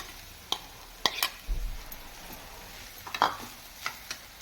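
Young jackfruit pieces stirred into softened onions in a pan on a low flame, with a gentle sizzle of frying under a series of scraping spatula strokes against the pan, close and fairly quiet.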